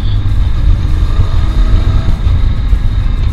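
A loud, steady Honda Shadow VLX 600 motorcycle engine rumbles close by for the whole stretch, deep and constant with slight fluctuations, no voices.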